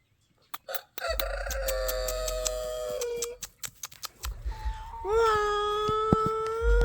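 Roosters crow loudly and close by, two long drawn-out calls one after another, with a few sharp clucks and squawks between them.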